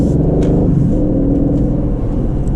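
A 2020 Aston Martin Vantage runs in sport mode, its engine a loud, steady low rumble heard from inside the car, with a slight shift in pitch partway through and no talking.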